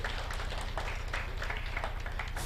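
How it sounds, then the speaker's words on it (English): A conference audience at a Kenyan providers forum claps in a steady, dense round of applause, moderately loud and continuous with no voices over it. "more time with a round of applause"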